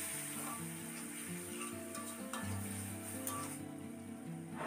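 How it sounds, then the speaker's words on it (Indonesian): Ground chili and shallot paste sizzles in a little oil in a pan while being stirred, giving a steady, quiet frying hiss with faint scrapes and a low background hum, and no talk. "cabe dan bawang yang udah diulek tadi, terus diaduk-aduk biar nggak gosong"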